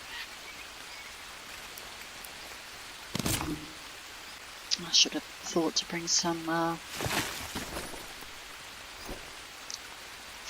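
Steady rain falling in the survival video game Green Hell, a continuous soft hiss throughout, with someone talking over it and a few brief crafting clicks and thumps partway through.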